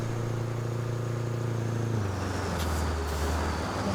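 A truck engine in the video game Roadcraft drones with a steady low hum that drops in pitch midway as the load shifts, followed by a brief hiss like an air brake release, with no talking.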